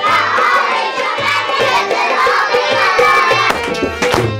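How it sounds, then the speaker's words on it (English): Children perform traditional songs with instruments while people clap along, with sharp rhythmic hand claps over lively crowd noise and children's voices, loud and close throughout. "Dr. Yaqubi also begins to clap along as she happily watches the children"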